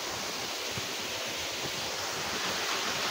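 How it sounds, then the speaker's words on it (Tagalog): Strong rushing water roars as a steady, dense wash of noise, close and unbroken throughout, with no voices over it. "Lakas na nagang tubig."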